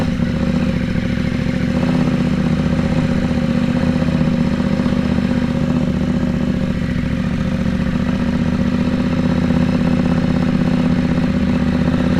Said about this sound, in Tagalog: Sana naririnig nyo ako sa ingay na tambucho na ito.